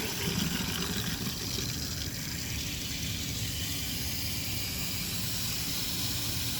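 A steady, even rush of water flows into sprinkler system piping, a continuous hiss that holds constant without pauses.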